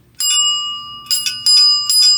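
A one-piece solid brass hand bell, about a pound, rings close up in several quick, bright strikes, each leaving a clear metallic ring that lingers briefly.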